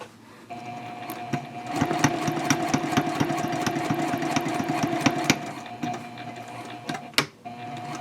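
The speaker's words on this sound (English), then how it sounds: "you can just pivot and sew over it this way" Sewing machine stitching the seam of an eco-friendly fabric shopping bag, a close, fast rhythmic whirring chatter that runs for several seconds, then slows and stops with a few clicks and knocks.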